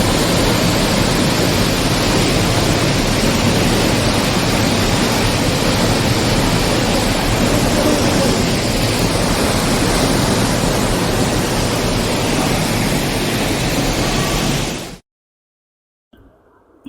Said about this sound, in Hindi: गुफा के अंधेरे खामोश कक्षों में गर्जन करने वाले झरने का संगम एक अवास्तविक और अविस्मरणीय अनुभव बनाता है।